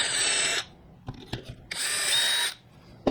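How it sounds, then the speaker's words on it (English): A power drill bores a shallow pilot hole using just the tip of a brad point bit, in two loud bursts of a steady high whine separated by a quiet gap, with faint handling clicks between. "I'm going to then drill a hole here and here"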